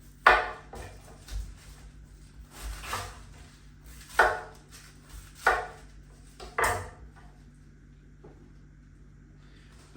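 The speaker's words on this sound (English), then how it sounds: "And then I'm just going to chop that into nice chunks." A knife chops Chinese leaf into chunks on a board with a series of sharp, irregular thuds, fairly close, with quiet gaps between strokes.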